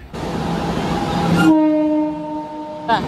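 A departing train at a station rumbles loudly nearby, then its horn sounds a sustained tonal blast that fades, with a brief second horn burst at the very end and no talk.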